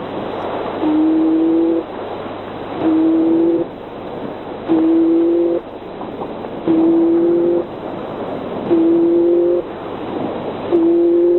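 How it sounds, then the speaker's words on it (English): A plains-wanderer's recorded call plays as a low, hollow, hooting moan, repeated six times at an even, slow pace. Each note is steady and clear against a quiet background. "Plains wanderer."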